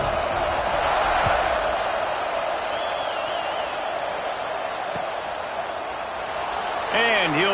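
Stadium crowd noise at an Oregon football game, a steady broad roar and buzz of many voices after a score, with a commentator talking over it and a brief whistle-like tone near the end.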